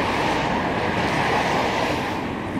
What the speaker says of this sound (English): A little water fountain there.